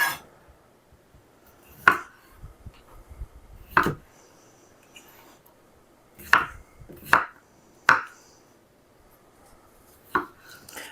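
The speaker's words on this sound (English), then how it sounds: "And I'm just going to chop up some potatoes." Potatoes chopped with a knife on a board for corn chowder, a handful of sharp, well-spaced thunks with quiet pauses between cuts, close and clear.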